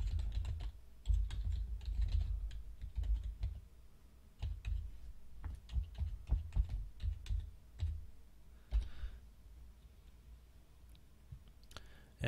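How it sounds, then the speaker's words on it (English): An ID typed on a computer keyboard, with a long run of close, irregular key clicks and taps that come in uneven bursts and slow toward the end. "let's go ahead and type in my"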